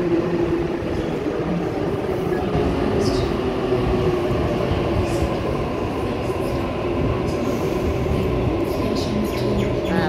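A Waratah electric train pulls into a platform at Chatswood station with a steady, loud rumble and hum of wheels and motors, a little squeal now and then, heard close for the whole stretch.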